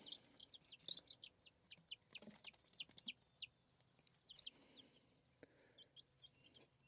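Chicks and chickens cheep and cluck in quick, irregular bursts, close by and fairly quiet, with scattered rustling between calls.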